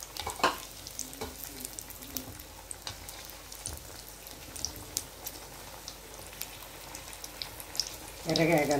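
Potato-stuffed chilli bajji fry again in hot oil, a soft steady sizzle with occasional crackles and light clinks, ending with a louder burst of bubbling.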